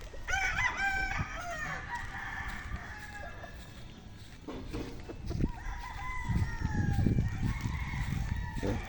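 Several roosters crow in turn amid clucking hens at a gamefowl farm, with a busy farmyard chorus of fowl close by and no talking.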